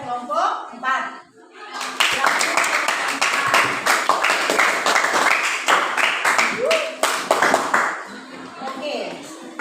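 Students in a classroom clap together for a presenting group, steady applause running for several seconds after a teacher's voice, with talk before and over the clapping.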